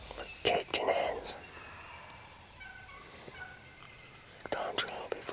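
Wild turkeys gobbling during spring turkey season in Iowa, a few bursts at moderate distance with quiet outdoor air between them, under faint whispering from nearby hunters.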